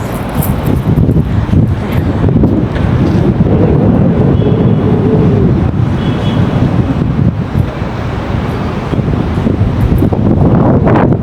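Loud, continuous cold New Year's wind rushing and thumping against the mic, a heavy blustery roar that barely lets up.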